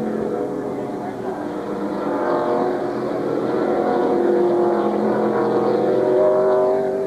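NASCAR stock cars race up a hill at the 2000 SaveMart/Kragen 350, a loud, sustained engine roar with rising and shifting pitches as several cars pass, and a commentator talks over it.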